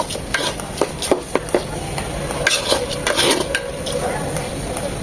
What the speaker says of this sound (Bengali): তিন থেকে চার মিনিট ভেজে নেব মশলার সাথে যখন মোট মোট একটা শব্দ হবে তখনই বুঝতে হবে আমাদের ভালোভাবে ভাজা হয়ে গিয়েছে